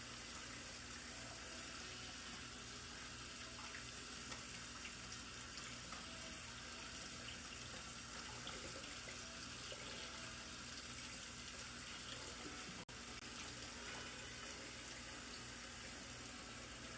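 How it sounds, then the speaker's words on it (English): A kitchen faucet runs steadily while hands are washed, a constant, even rush of water with no talking. "I'm gonna wash my hands real quick"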